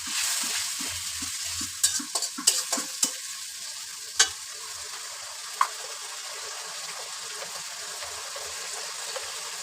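Spices with turmeric, salt and a splash of water frying in a pan for a bottle gourd and boal fish curry, a soft sizzle under a quick burst of spatula scrapes and clacks early on, then quieter frying with occasional knocks.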